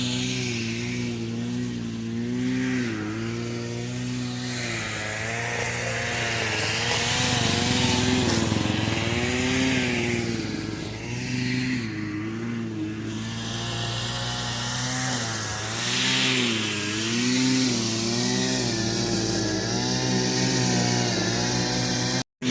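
A Stihl chainsaw pruning guadaya trees runs steadily throughout, its engine rising and falling in pitch as it revs and bites into wood, loud and close with no speech.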